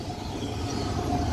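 Mixed freight train rolling past with a distributed-power (DPU) locomotive in the consist, a steady loud rumble and rail roar filling the whole moment without pause.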